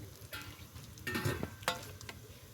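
Bhajiya fritters frying in hot oil at home give a soft sizzle, broken by a few sharp spattering crackles and light stirring sounds, fairly close and unaccompanied by speech.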